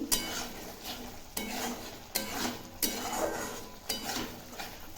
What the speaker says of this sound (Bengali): আমি এখন দেখো মশলাটা কষিয়ে নিচ্ছি